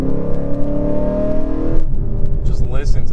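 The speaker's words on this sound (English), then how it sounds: "listen to that sound. I hope it's coming through on the camera, guys, because this engine is so glorious." A loud 2018 Lexus RC F engine hums steadily with a rising tone, then shifts into a rougher, throaty growl with crackling pops, close and continuous.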